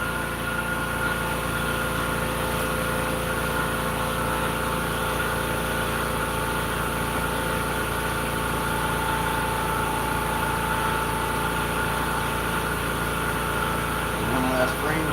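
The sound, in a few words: air compressor running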